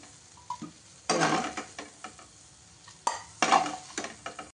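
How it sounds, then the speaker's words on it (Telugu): Meal maker soy chunks frying in oil in a pan, stirred in two loud bursts of scraping and sizzling between quieter clicks of the spoon against the pan, close and clear with no talk. "ఫ్రై చేసుకోవాలి. ఇవి మాడకుండా ఇవైతే ఫ్రై అయిపోయినాయి."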